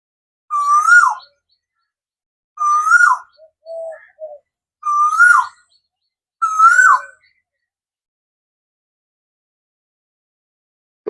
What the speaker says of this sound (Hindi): फिर देखिए कोयल की आवाज़ कूकू करती हुई।